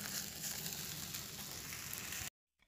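Tofu satay grilling for a homemade fast-breaking side dish, giving a steady close sizzle and crackle that runs unbroken, then cuts off abruptly into silence with a brief faint rustle at the end.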